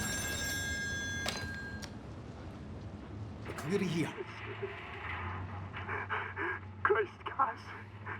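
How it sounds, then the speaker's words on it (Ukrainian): A telephone rings in the horror video game Still Wakes the Deep, giving a short electronic trill at the start. Heavy breathing and rumbling game ambience with thuds follow, and a voice talks over part of it. "Знову телефонний дзвінок."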